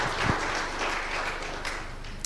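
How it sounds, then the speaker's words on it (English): Conference audience at an East Africa waste-management event applauding, a steady broadband wash of clapping held at moderate level for a couple of seconds. "Another round of applause, a truly hearty one."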